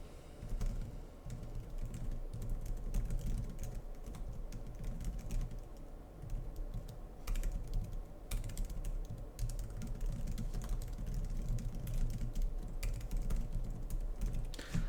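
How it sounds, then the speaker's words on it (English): Continuous close-up typing on a computer keyboard, with rapid irregular clicks and clacks running throughout at a moderate level over a low background hum, with no talk. "The typing is going to be hilarious"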